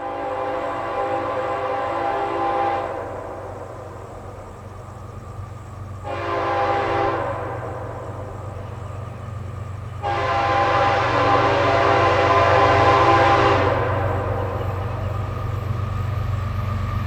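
A northbound CSX ethanol-empties freight led by three Canadian Pacific GE locomotives approaches on a Florida mainline, its horn sounding three loud blasts (two long, one short between) over a continuous low diesel rumble.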